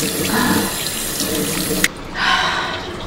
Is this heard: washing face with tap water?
yes